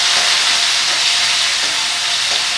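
Onions sautéing in a pan for a banana-flower vadakari, a steady loud sizzle and hiss running continuously throughout with no voices.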